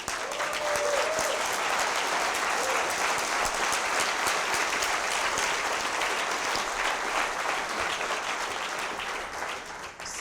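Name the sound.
audience applause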